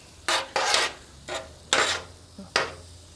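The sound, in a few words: mixing ribeye steak with Uncle Steve's seasoning on griddle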